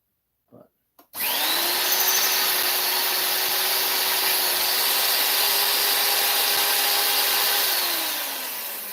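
Power drill boring with a drill bit, starting after a couple of faint knocks, then a loud steady whine held for several seconds before tapering off near the end.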